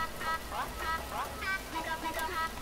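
Steady rain recording with a dense, continuous patter that plays without a break, panned hard right in a Bitwig pan-law demonstration; a faint stuttering vocal sits alongside it.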